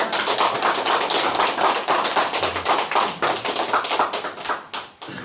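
An audience at a company lecture in Korea breaks into loud, sustained applause, dense rapid clapping from many hands that carries on for several seconds before thinning out.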